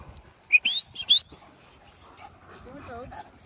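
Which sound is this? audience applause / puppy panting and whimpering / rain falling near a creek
puppy panting and whimpering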